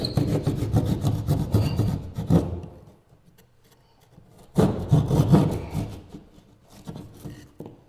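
A hand saw cuts a hole out of wood in two bursts of rapid rasping strokes, close and fairly loud, with a brief quiet pause between them.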